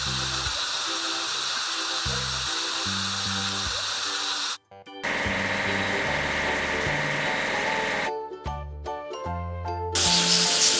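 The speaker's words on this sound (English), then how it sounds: "And now let's wash the grain truck." Spray jets and machinery hum wash a grain truck in a kids' car wash game, loud and steady, with a short gap midway and bright chimes and jingles near the end.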